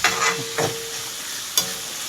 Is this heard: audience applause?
no